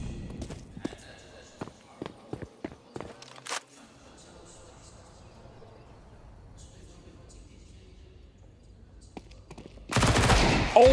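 Counter-Strike gunfire in a pro match, a rapid scatter of sharp pistol shots and clicks early on, then quieter footsteps and ambience before a loud burst of noise at the end, with a caster talking over the action.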